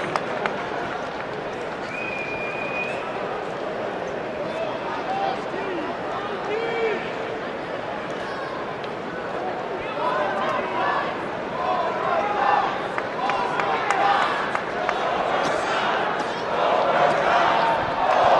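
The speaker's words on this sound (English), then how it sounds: "the crowd is starting to chant overtime in agreement with the Pine Creek coaches" Crowd at a high school state wrestling final chanting for overtime, a broad roar of voices that swells and grows louder toward the end, mixed with talk and a few sharp bangs.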